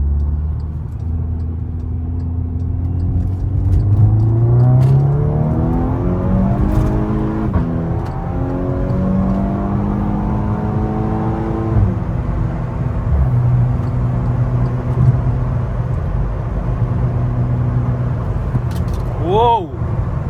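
A VW Scirocco R on the road, heard from inside: a steady engine drone climbs in pitch as it accelerates through the gears, then settles into a cruising hum with road noise. No one talks.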